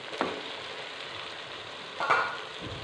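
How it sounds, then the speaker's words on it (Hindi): Tomatoes frying in a pan with browned ginger garlic paste and onions, a low steady sizzle broken by two short scraping stirs, one early and one louder near the end. "अदरक लहसुन ब्राउन हो चुके हैं। अब इसमें टमाटर ऐड कर देंगे।"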